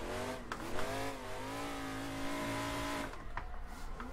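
A Nissan S14 engine in Assetto Corsa revving high and steady with a clear rising and falling tone, then dropping off near the end with faint tire noise.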